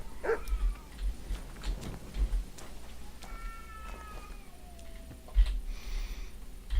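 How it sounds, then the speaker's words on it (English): Cats fighting in Kingdom Come: Deliverance 2 yowl and screech in rising and falling wails, somewhat distant, over a low rumbling ambient bed with scattered thumps. "I can hear cats fighting and stuff."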